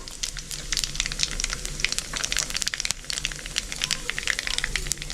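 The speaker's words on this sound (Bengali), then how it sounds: "তেল গরম হয়ে গেছে, আমি 2টো শুকনো লঙ্কা চিড়ে দিয়ে দিচ্ছি। আর ছোটো চামচের 1 চামচ কালো জিরে দিয়ে দিলাম।" Dried red chillies and nigella seeds crackle and sizzle in hot oil for a red spinach fry, a close, busy spattering of sharp pops that runs on steadily.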